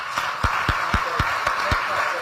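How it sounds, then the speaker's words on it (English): An audience at a chamber of commerce fireside chat claps in a final round of applause, heard as a steady train of distinct claps at an even pace, with some crowd sound behind them. "Everyone, please join me in one final round of applause."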